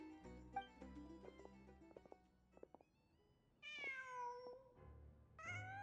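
A cat meows repeatedly in the video game Genshin Impact: several clear, high mewing calls stand out in the second half over a bed of game music and ambient sound, with no talking.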